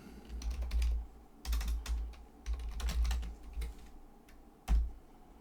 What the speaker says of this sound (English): I'm not so much displaying knowledge here as typing in random Romanian movies and praying.